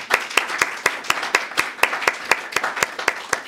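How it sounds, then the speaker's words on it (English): A few people clap at a decolonial AI event introduction, steady evenly spaced claps at a brisk rhythm, close and fairly loud, with no talking over them. "A round of applause for these three."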